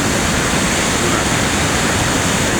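Water pouring over a weir on the Pa Sak River, a loud, continuous broadband roar that stays unbroken from start to finish with no pauses.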